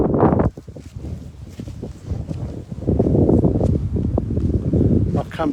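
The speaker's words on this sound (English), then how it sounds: "It's very windy." Strong wind gusting outdoors beside a house, a loud continuous rushing roar buffeting the microphone throughout, with a brief lull early on.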